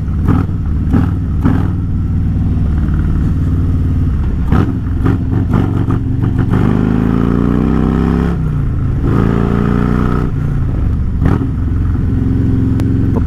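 A Harley-Davidson Stage 2 117 cubic inch engine with a Star 30/30 cam rumbles loudly at idle with a lumpy, heavy beat, then rises in revs and falls back again. No one talks.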